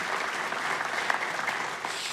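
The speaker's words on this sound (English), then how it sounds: "You can clap for that because it is a breakthrough." An audience at a church leadership talk breaks into steady, dense applause, many hands clapping together at an even level throughout, with no voices over it.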